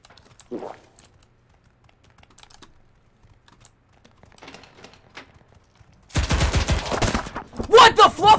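Rapid automatic gunfire in the online shooter CRSED: F.O.A.D., a loud dense burst in the final seconds after quiet stretches of faint clicking and a brief voice.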